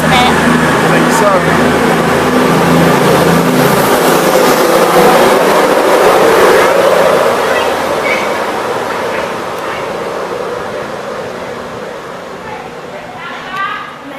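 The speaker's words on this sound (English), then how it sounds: "It is a gorgeous class 220, isn't it?" A Class 220 train rolls past on a Welsh rail trip, a loud broadband rumble and clatter of carriages that holds steady, then gradually fades as it moves away, with a faint squeal near the end.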